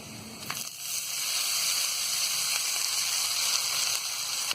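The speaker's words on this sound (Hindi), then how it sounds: "जब ये सारी चीजें अच्छी तरह फ्राई हो जाए तो अब डाल देंगे हम इसमें चावल" Rice tipped into hot ghee with fried dry fruits and cardamom powder, for sweet jaggery rice, sizzles as a steady bright hiss across the whole stretch, close and even, with a few faint clinks near the start.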